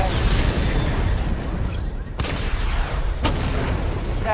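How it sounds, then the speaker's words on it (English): Missile barrage explosions in Batman: Arkham Knight, a dense rumbling bed of blasts with two sharp, distinct booms standing out near the end. "Missile barrage level 1"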